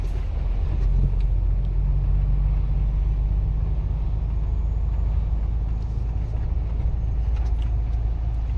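A car moves slowly along a snowy, slippery road, heard from inside as a continuous loud low rumble of engine and tyres with faint occasional clicks.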